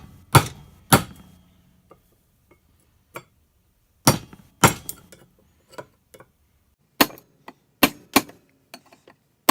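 Sharp metallic whacks of a hammer striking a Ford Dana 60 track bar bushing, sounding in irregular pairs and clusters with short ringing tails and quiet gaps between the blows.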